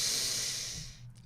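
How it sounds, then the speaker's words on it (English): A deep inhale drawn in through the nose during a guided breathwork session, a steady airy hiss that fades toward the end, close and alone. "Breathing in through the nose"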